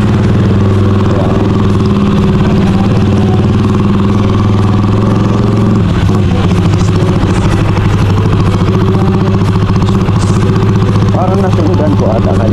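A motorcycle engine runs loudly and close for the whole stretch, idling and chugging with a steady low drone and some clatter. Faint voices are heard at times beneath it.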